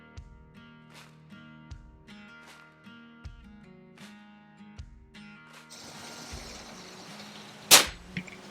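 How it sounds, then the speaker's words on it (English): Beeman P17 air pistol during a trigger pull test: one sharp, loud snap near the end, with a few softer clicks over steady background music. "We'll do a trigger pull test"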